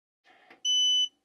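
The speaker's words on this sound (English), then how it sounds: "this is the annoying beep" A Growatt SPF3000TL solar inverter gives one loud, steady electronic beep lasting under half a second, preceded by soft handling clicks and rustle.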